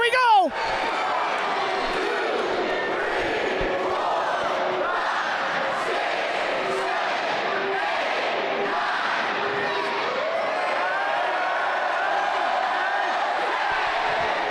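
A wrestling crowd at a PPW RetroSlam show roars steadily for nearly fifteen seconds, a full, dense wall of cheering and shouting filling the arena.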